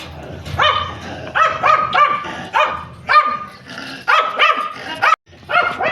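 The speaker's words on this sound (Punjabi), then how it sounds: "ਭੌਂਕੀ ਜਾਂਦਾ" A dog barks close by in a rapid series of sharp, loud barks separated by brief pauses, continuing through the whole stretch.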